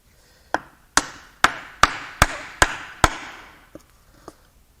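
Someone knocks on a part from a faulty LLY Duramax 6.6L turbodiesel V8 during teardown using a piece of wood, producing seven sharp, ringing hard knocks in quick succession followed by two fainter taps, close and loud with no talk.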